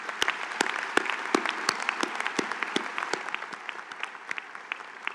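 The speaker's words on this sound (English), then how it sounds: "a round of applause for all of your supporters and for this great faculty" A crowd applauds at a university architecture college commencement ceremony, giving a steady round of clapping with distinct individual claps standing out, moderately loud in a large hall, with no talking.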